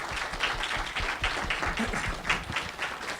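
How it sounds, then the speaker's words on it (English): An audience applauds panelists at the close of a talk on environmental issues, steady dense clapping that runs for the whole stretch with a few louder bursts and no voices over it. "let's give our panelists a round of applause"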